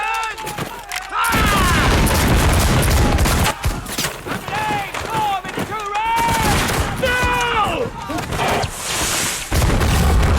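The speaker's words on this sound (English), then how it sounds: "it's like cannon sort of thing." Cannon fire in a pirate battle scene from the TV series Black Sails, heavy booms and volleys mixed in with loud shouting voices throughout.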